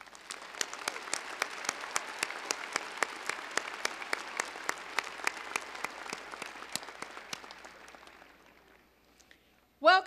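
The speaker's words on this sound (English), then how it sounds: "Let's give them a round of applause." A large audience at a Weber State University fall commencement applauds retiring faculty and staff, with sustained, even clapping and crisp individual claps standing out, gradually thinning and fading before a voice starts at the very end.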